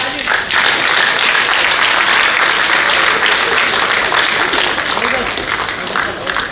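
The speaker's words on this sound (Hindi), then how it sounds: "जबरदस्त ताली" Loud, sustained applause from an audience following a speech at a community event, steady clapping filling the whole stretch and easing slightly toward the end.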